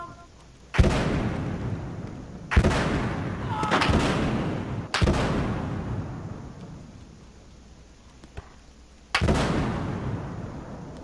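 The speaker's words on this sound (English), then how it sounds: "Got a grenade on him!" Battlefield Hardline combat with a grenade blast and heavy gunfire: four or five loud booming detonations or shots, each followed by a long rumbling decay, spaced irregularly over about eleven seconds.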